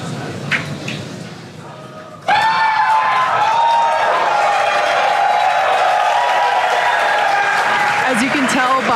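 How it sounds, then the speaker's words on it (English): A crowd at SpaceX Mission Control in Hawthorne bursts into loud cheering and sustained applause after a quieter stretch with talk, the roar filling the room and holding to the end during a Starship flight test. "As you can tell by the excitement from the crowd here at Mission Control Center in Hawthorne"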